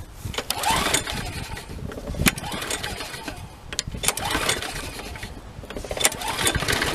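A small lawn mower engine sputters with a few uneven bursts and sharp pops, then catches and runs with a steady, close, raspy drone.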